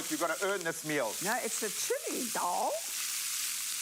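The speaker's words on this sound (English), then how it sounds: "I'm going to whack the rice, and the minute you get that beautiful... Oh, wow. So you're proper frying the rice." Rice frying in hot sunflower oil with chili, ginger and garlic gives a steady sizzle under two people talking throughout.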